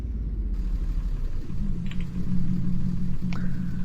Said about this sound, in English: Ooh, that car sounds good.